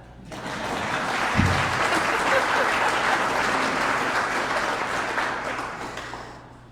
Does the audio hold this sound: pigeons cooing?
no